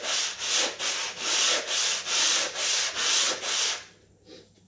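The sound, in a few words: sanding wood by hand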